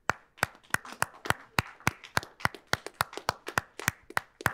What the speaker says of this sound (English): Let's clap it up, everybody.